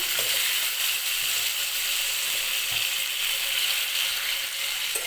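Papaya, potato, green beans and bottle gourd stems fry in hot oil, a steady, dense sizzle running the whole time with a few faint clinks of stirring, close and fairly loud, with no talking.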